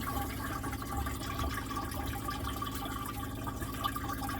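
Fresh water is pumped through a campervan toilet from the onboard tank, giving a steady rushing, gurgling flow that runs continuously at moderate level with no talk.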